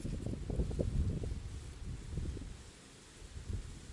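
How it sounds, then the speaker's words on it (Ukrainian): Strong wind gusts buffet the microphone outdoors at a fishing spot, a loud, rumbling, continuous roar that eases briefly before picking up again. "Щось розгулявся не на шутку вітер."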